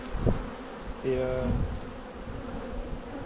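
Honeybees at an open hive while the colonies are checked for winter, a steady close buzzing hum under a brief voice, with a louder droning burst partway through.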